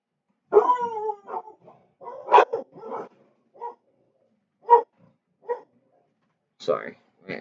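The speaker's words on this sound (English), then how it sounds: "Dogs." Dogs bark and yip in short separate bursts with whimpering, howl-like tones, spaced irregularly against an otherwise silent background.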